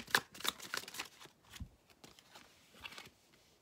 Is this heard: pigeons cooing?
no